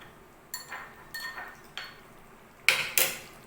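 Fish pieces being mixed in a bowl for Fish Manchurian, with about five clinking strikes of a utensil against the dish at uneven intervals, the last two the loudest and brightest, close by with no talking.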